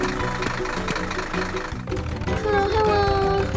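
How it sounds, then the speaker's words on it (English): Tractor engine in the Monkey Farm 3D video game as it drives into an empty field and plows, a steady mid-pitched engine drone mixed with game music, shifting to a higher whining tone near the end. "Tractor enters the empty field and starts plowing."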